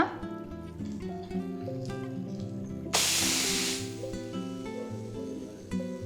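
Ridge gourd dosa sizzling on a hot pan just after being flipped, a sudden bright hiss bursting up midway over steady background music, then slowly fading.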